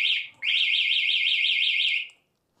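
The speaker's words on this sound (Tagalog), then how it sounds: "Yan yung kanyang alarm." The alarm on an FKM Falcon X400 twin-cylinder motorcycle sounds as a loud warbling electronic siren. A brief chirp comes first, then a steady oscillating wail for about two seconds before it cuts off.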